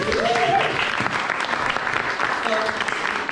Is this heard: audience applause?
yes